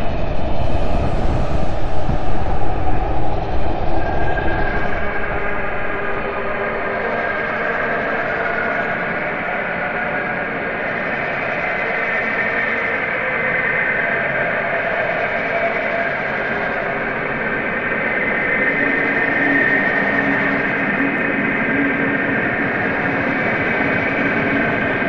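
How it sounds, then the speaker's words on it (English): Apollo 11 Saturn V rocket launch, a loud sustained broadband roar that swells early and then rumbles on steadily for the full length, with muffled radio-style band-limited quality. "All engine running. Liftoff. We have a liftoff."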